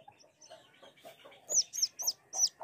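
A chick peeps from inside a hatching chicken egg: about five sharp, high peeps close together in the second half, with soft scratchy tapping before them.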